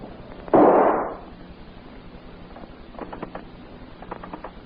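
A single loud, sharp gunshot bursts out close up in a 1936 radio drama about a wife shooting her husband, decaying over half a second, followed by faint scattered clicks and rustles.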